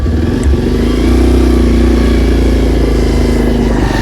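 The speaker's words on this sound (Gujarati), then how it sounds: "મેં મને તો બાઇક સ્ટાર્ટ કરી દીધી યાર" A motorcycle engine runs loud and close after being started, a steady rumbling idle with a slight rise in revs partway through, heard on its own without voices.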